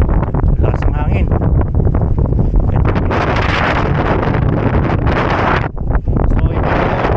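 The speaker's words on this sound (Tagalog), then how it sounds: "Lakas ang hangin." Strong wind buffets the microphone in a continuous loud roar beside a bobtail truck parked out in winter, gusting unevenly with brief dips, while someone talks under it.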